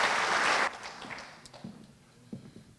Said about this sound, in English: Can you have one more round of applause?